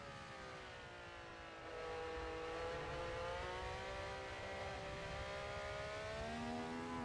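Simulated car engine in Assetto Corsa VR drones steadily with stacked harmonics, the pitch shifting down then climbing again as the gear changes, with no throttle blip, loud and continuous throughout.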